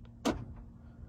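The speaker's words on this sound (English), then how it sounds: "You have lock and unlock, which makes a nice little lock and folds the mirrors in, or folds the door handles in." A Rivian R1T locking up: a short, faint motor whir and a soft clunk are heard, likely the mirrors or door handles folding in, with a small chirp just before it and a quiet tail after.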